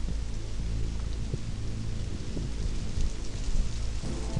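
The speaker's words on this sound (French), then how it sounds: "mais il pleut" Steady rain falling outdoors at a château, a dense continuous hiss of drops with low rumbling and patter close by, no voices.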